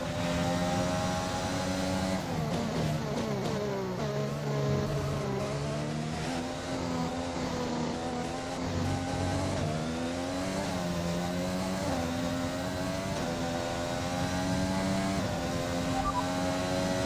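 A Formula 1 race car engine in the F1 2021 video game on the final lap of a race gives a continuous, loud, high-pitched whine that rises and falls with gear changes and throttle, sustained without pause.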